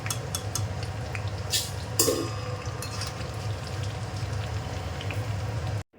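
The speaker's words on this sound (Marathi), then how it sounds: "पोहे बघा तळून झालेत एकदम कुरकुरीत बघा आवाज येतो बघा पोहे तळून" Poha (flattened rice) frying crisply in hot oil while festive faral snacks are made, giving a steady close sizzle and crackle with scattered sharper pops throughout, no talking.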